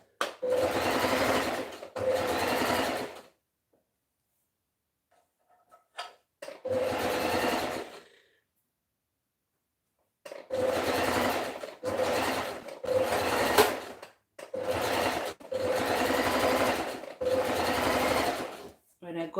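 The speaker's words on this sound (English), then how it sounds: "By half an inch away, I'm gonna stitch." A sewing machine stitches fabric for a two-piece top and skirt, running in loud, close bursts of whirring that stop and restart with silent pauses between.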